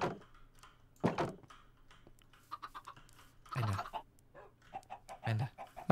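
Minecraft chickens cluck in short, scattered bursts outdoors near a field, some louder and closer, others softer, with quiet gaps between calls.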